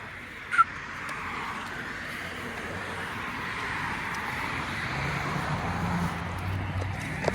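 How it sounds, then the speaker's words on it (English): Birds call outdoors during flocking season, likely geese, with a faint sharp cry early on over a steady wash of distant traffic and ambient noise. "I say it's flocking season for all the birds to flock."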